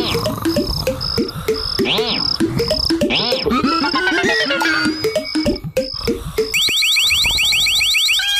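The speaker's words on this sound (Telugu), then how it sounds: "ఇప్పుడు ఎవరు ఈ పెట్టెను ముట్టుకున్నా ఈ అలారం మోగుతుంది." An alarm goes off on a box in a cartoon, with repeated electronic beeping and warbling chirps layered over busy cartoon sound effects, ending in a rapid high buzzing ring, loud throughout.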